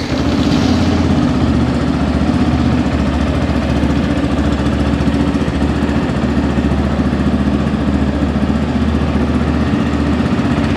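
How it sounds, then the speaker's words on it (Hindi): A 2024 Yamaha FZ-S Version 4.0 motorcycle engine runs at a steady idle throughout, a continuous low rumble with no talking. "चलिए एक बार बाइक स्टार्ट करके देखते हैं"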